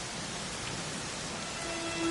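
Steady, even rain hiss pours down in the role-playing game Dragon Quest XI, a constant wash with no breaks, alone with no voices, a faint tone entering near the end.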